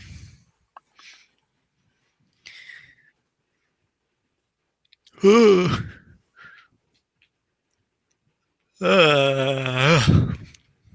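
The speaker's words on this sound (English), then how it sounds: "It's not every day you can hear someone who is technically an adult yawn on a live stream." Adult yawning on a live stream, two drawn-out voiced yawns with rising, stretched tones around five and nine seconds, separated by faint clicks and breaths in an otherwise quiet room.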